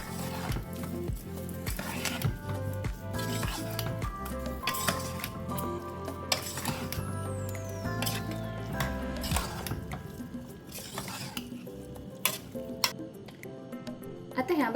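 Carrot halwa is stirred in a pan with a spoon, with repeated scraping and clinking of metal against metal in an uneven rhythm at close range while a voice speaks at times.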